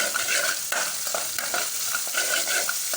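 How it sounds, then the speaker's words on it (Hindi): Green chilies sizzle in hot oil while a spoon stirs them with irregular scraping strokes, cooking as part of a radish paratha filling. The frying hiss stays steady and close throughout. "उसके बाद इसमें जो शामिल कर लेंगे हम ग्रीन चिली, इसको थोड़ा सा भूनेंगे।"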